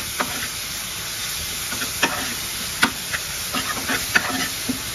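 Spice paste sizzling in a little oil in a pan, a steady frying hiss broken by occasional scraping stirs and small pops, close by with no talk.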